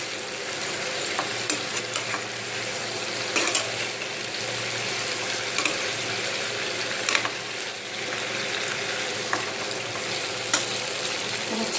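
Chicken 65 pieces, already fried, sizzle steadily in a hot pan while being stirred, with occasional clinks of the spoon against the pan and a constant crackling hiss throughout.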